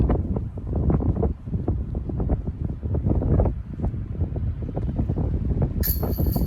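Strong wind gusting across an outdoor disc golf course during a tournament, a rough, continuous rumbling buffet against the microphone that swells and dips throughout, with no voices.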